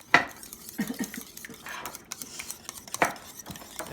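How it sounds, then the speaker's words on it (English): Eggs are whisked in a bowl with close, clattering utensil strokes, including two sharp clinks near the start and end, over quieter scraping in between. "So I'm going to whisk it before I add it to that mixture."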